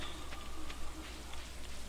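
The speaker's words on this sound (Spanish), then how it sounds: "Está lloviendo." Soft, steady patter of rain falling in the farming video game Stardew Valley, faint and continuous with no voices.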